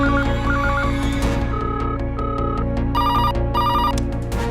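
Office telephones of a minister and a police commissioner ring insistently, loud repeated electronic trilling bursts layered over a sustained musical backdrop.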